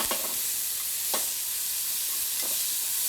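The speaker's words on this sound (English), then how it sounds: "These are all frying nicely." Steady sizzling of vegetables frying in a hot pan over high heat with teriyaki sauce, with a few louder bursts of spatter and stirring scrapes over the constant crackle.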